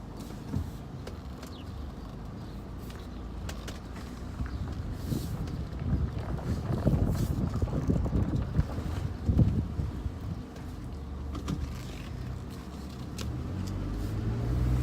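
Steady interior noise while driving a Nissan Altima 2.5 SL: a low engine and road rumble with wind hiss, swelling slightly midway, no voices.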